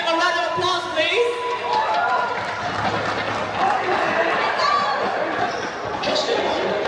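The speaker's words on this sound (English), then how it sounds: "Let's give him a round of applause, please." Audience applause and cheering for a singer named Justin at a live league event, a dense steady wash of clapping with crowd noise throughout.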